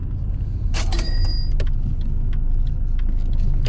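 A taxi car pulls away on a city street, with a steady engine and road rumble throughout and a brief bright mechanical whine near the start.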